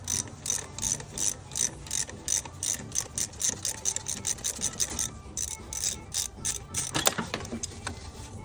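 A rented harmonic balancer puller ratchets in quick, rhythmic clicking bursts as it draws a harmonic balancer off an engine, loud and close with brief pauses between strokes.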